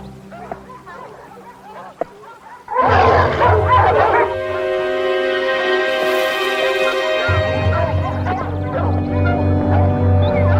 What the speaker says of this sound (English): My hounds!